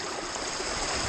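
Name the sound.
fast-running river water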